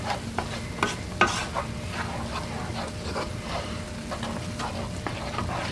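Bourbon bacon BBQ sauce simmers in a pan with a steady low bubbling hiss, while a spoon scrapes and stirs through it in several sharp, irregular clinks and swishes close by.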